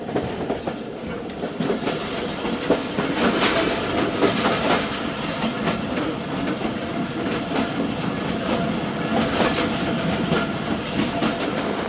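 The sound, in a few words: Thal Express train running on rails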